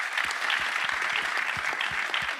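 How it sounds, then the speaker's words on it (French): An audience at a round-table event applauds the organisers with steady, dense clapping, many hands overlapping in a continuous patter close by. "je voudrais vraiment applaudir, parce qu'on n'a pas eu l'occasion de le faire, les organisateurs"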